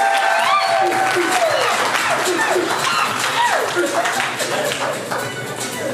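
Guests at a Gabonese civil wedding clap in a steady wash of applause, with voices and cheering calls woven through it from start to finish.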